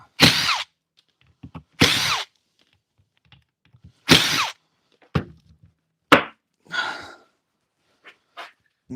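Power drill with a chuck spins up in several short bursts separated by pauses, close and loud, with a few lighter clicks and handling knocks in between.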